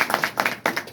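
An audience claps in honour of a department head, a short burst of sharp, uneven hand claps from a small crowd, close and fairly loud.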